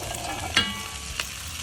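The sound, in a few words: butternut squash and shallots sizzling in butter while stirred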